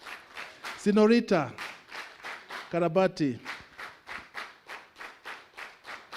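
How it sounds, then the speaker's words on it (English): Rhythmic clapping at a youth forum session, with evenly spaced claps in a steady beat, briefly covered by a sung or chanted voice near the start and again in the middle. "Let's do one more round of clap for all these who presented."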